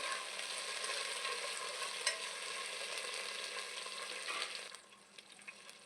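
Whole spices and mint leaves frying in a pan for bagara rice, a dense even sizzle with stirring that cuts off abruptly near the end, leaving faint clicks, no talking.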